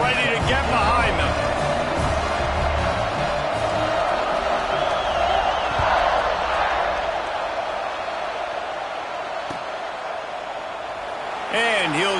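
A Madden video game stadium crowd roars steadily after an extra point at a kickoff, a dense wash of cheering under a commentator's play-by-play voice.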